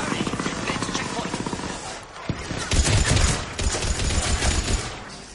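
Rapid gunfire in the Mass Effect 3 video game, dense hard-hitting bursts of automatic weapons in combat, loud and continuous throughout with voices talking over the action.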